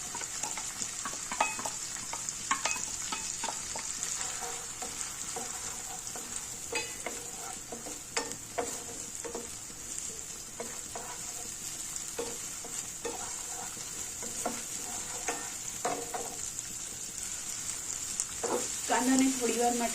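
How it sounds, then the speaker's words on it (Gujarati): Onions sautéing in a pan for homemade momos filling, a faint, steady sizzle with scattered clicks and scrapes of stirring throughout, quiet and close, with no talking. "સંતળાવા દઈશું થોડા નરમ થઈ જાય કાંદા"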